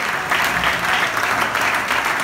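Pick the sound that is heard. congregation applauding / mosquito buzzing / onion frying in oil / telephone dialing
congregation applauding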